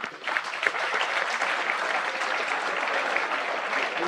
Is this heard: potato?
no